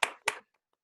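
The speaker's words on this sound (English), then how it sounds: "here, Svante and I can applaud" Two people applaud at the close of an online talk: two quick, close bursts of hand clapping, then silence.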